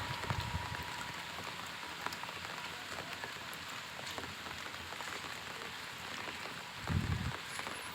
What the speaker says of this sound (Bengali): প্রবল বেগে বৃষ্টি হচ্ছে